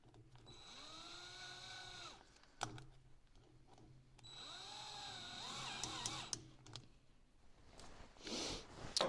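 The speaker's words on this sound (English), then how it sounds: "Just have to grab my drill, put her on like so, cinch her down." Two bursts of a power drill whirring, each winding up then slowing down as it tightens, with brief clunks and handling noise between them.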